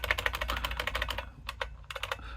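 Clicky mechanical keyboard switches typed in a fast, dense run of sharp clicks, then a short pause and a few scattered keystrokes and a final burst, close and clear with no talking.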